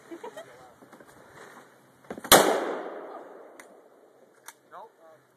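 A single loud, sharp shotgun blast from a novice shooter at an outdoor range rings out near the middle and decays slowly, with quieter handling noises and voices talking before and after it.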